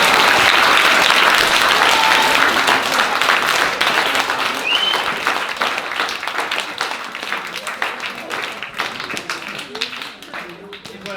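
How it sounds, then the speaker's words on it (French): An audience at a stage performance applauds, dense clapping loud at first, then gradually thinning and fading toward the end. "On applaudit quand même."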